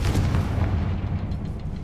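The Confringo fire spell exploding in Hogwarts Legacy, a loud, deep, rumbling blast that fills the short moment and slowly decays.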